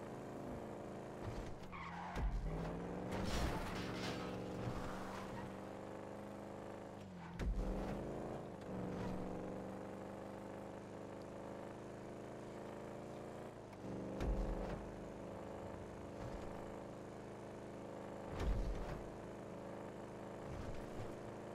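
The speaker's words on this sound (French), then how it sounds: "je sais pas si la fugitive, c'est pas la moins pire des voitures" Engine and tire noise from a Fugitive car driven in the video game GTA Online, with repeated bursts of skidding tire squeal and revving at steady intervals over a continuous motor drone, with no talking.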